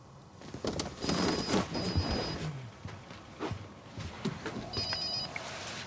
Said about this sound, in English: Your phone, Mr. Duffy?